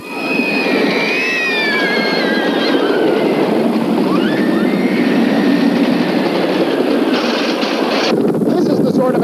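Roller coaster ride on the 22-year-old wooden Thunderbolt at Kennywood amusement park, with a steady loud rumble of cars on track, rising and falling squeals and whooshes, and riders' voices and shouts throughout.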